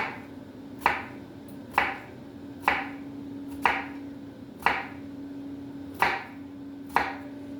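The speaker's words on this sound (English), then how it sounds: "And I'm going to cut my onions like this." A knife chops onions on a cutting board in eight crisp, evenly spaced strokes, close and clear over a faint steady hum, with no talking.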